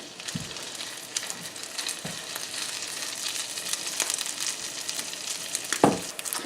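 Tuna mixture frying in melted butter in a pan, a steady close sizzle with a few soft thuds and clicks of a utensil, no talking.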